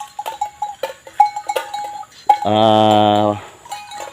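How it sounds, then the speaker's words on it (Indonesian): Cattle with cowbells at a grazing site on a plantation, a rhythmic series of clanking bell knocks followed by one clear, sustained moo close by. "Ini sapinya lumayan juga"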